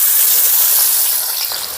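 Thinly sliced onions hitting hot oil, a loud, close, bright sizzling hiss that fills the moment and eases off slightly toward the end.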